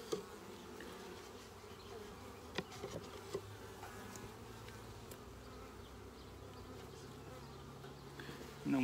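Honeybees buzz in an outdoor bee yard with a soft, continuous hum, faint and fairly distant, broken by a few small knocks and clicks.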